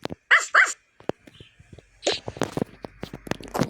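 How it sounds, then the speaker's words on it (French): Toca Boca game dog giving two quick, sharp barks close up, then a scatter of softer clicks and a brief yip amid light game sounds. "Coucou mon petit chien. Trop beau mon petit chien."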